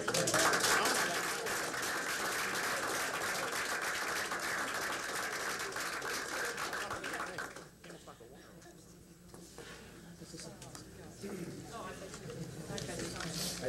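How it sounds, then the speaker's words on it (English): Applause from an audience at a 1999 school board meeting, a dense steady patter that holds for several seconds, then thins and drops back before rising again, with talk mixed in. "Another round of applause."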